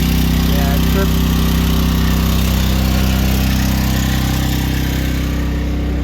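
A generator engine runs loud and steady with a constant drone throughout, in a snowstorm setting, with no clear speech over it.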